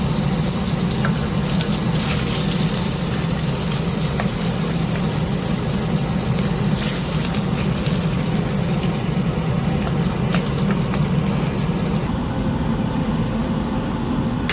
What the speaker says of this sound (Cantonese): 見到帶子兩邊都煎到金黃色啦，咁樣我哋就可以將佢滗起啦